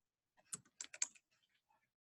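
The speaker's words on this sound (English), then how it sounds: "I'm going to type my own name in." Quick bursts of keystrokes on a computer keyboard as a name is entered, a short cluster of close, crisp taps followed by a few fainter clicks in an otherwise silent room.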